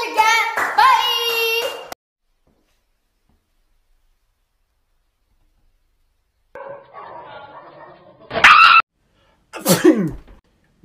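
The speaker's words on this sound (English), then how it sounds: "Achoo! Bless you, man." Sneezing in a comedic skit, with a loud burst followed by silence, then sharper sneeze-like blasts near the end amid voices.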